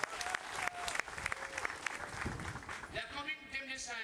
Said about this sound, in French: je demande à l'assistance d'applaudir cette police